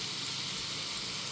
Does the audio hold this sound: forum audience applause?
no